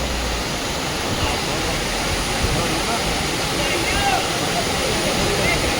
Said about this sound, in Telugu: వాటర్ ఫాల్ పేరు అంబౌలి వాటర్ ఫాల్.